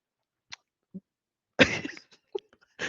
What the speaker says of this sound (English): Excuse me if you heard my cough, but I laughed and made myself choke.